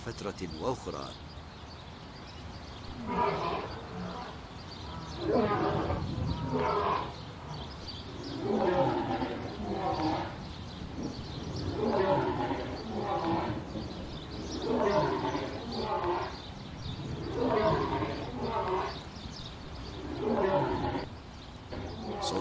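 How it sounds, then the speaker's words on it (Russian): Deep, rough lion roars repeat in heavy pulses over about twenty seconds, loud and close, with a low rumbling undertone between calls. "Львы рычат очень сильно и грубо."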